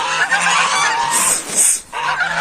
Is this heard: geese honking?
yes